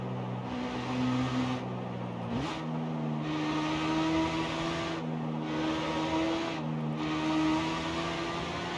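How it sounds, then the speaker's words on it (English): A rotary-engine race car heard from the cockpit in a racing video game, a high buzzing engine note holding at high revs, briefly dropping and climbing again with a shift, loud and continuous. "From the inside it actually does sound like a rotary."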